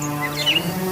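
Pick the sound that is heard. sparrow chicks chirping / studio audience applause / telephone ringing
sparrow chicks chirping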